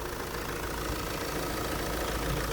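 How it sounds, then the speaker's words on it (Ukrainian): A 2013 Fiat Freemont with a 2.0-litre diesel engine, automatic gearbox and 4x4, idles steadily with a continuous low rumble and diesel clatter, close by and with no one talking. "Тож двигун заводиться і на холодну, і на гарячу чудово."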